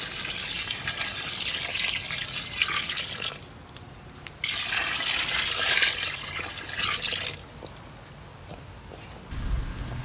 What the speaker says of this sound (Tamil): அந்த தண்ணியை இப்போ வந்து நான் சேர்த்துக்கிறேன்.